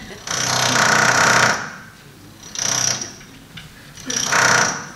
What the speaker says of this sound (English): it's normally a concrete rock drill just outside the main Ondaatje Theatre